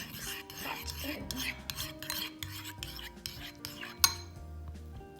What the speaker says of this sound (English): I'm just going to put in a bit of honey, and then I'm just going to mix that in.